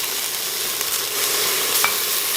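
Ginger and garlic fry in a pot with a steady, close hiss and crackle of hot oil, heard alone.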